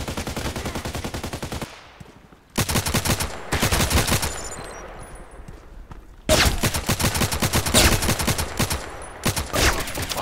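Rapid gunfire from the online shooter Contract Wars on the Bay map, loud bursts of automatic shots in several clusters with brief gaps between them, and no talk over it.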